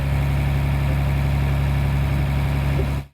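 A truck's newly installed engine, which has an oil leak, idles with a loud, steady low rumble and constant vibration, close by and alone until it cuts off abruptly at the end.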